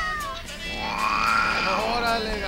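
Cats meowing in a comic song, long drawn-out meows with rising and falling pitch, loud and close, set against a steady musical backing.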